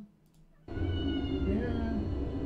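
A cat lets out a drawn, sustained meow close by, starting suddenly after a brief quiet moment and carrying on over a low, steady background hum.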